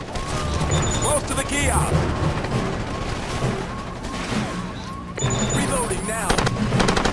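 Sustained automatic gunfire crackles in the video game Ghost Recon Advanced Warfighter, rapid bursts rattling close and loud across several seconds with a brief lull, while squad voices talk over the shooting.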